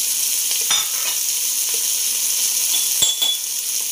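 Chicken with black pepper stir-frying over a high flame, a steady loud sizzle with a few metallic clinks and scrapes of a utensil in the pan, no talking.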